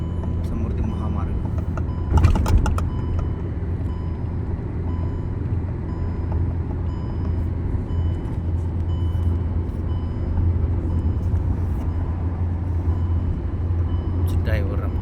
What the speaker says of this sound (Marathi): एवढी गाडी चालली आहे समृद्धी महामार्ग.